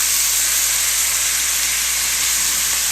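Ground beef browning in a pan for beef and cheese lasagna, a loud, steady, broadband sizzle that holds evenly without a break and with no voices over it.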